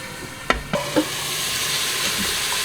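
Garlic and pepper sizzle in a covered pot for one-pot garlic pepper beef, with a few clanks of the lid early on followed by a steady, fairly loud hiss of frying and steam.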